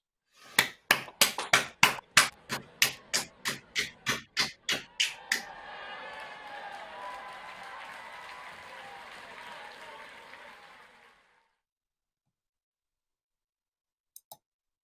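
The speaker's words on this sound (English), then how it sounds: "join me in a round of applause for your colleagues" Graduates on an online graduation video call applaud their colleagues: about fifteen sharp, evenly spaced claps up close, then a softer blended patter of many remote participants that fades out, with two faint clicks near the end.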